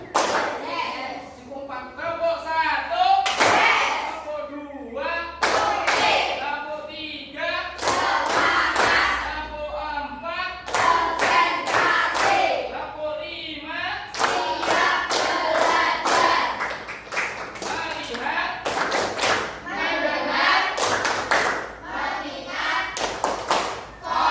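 An Indonesian classroom of children clapping a patterned rhythm during a teacher-training practice lesson, with bursts of sharp claps grouped in sequences while the children chant and speak along throughout.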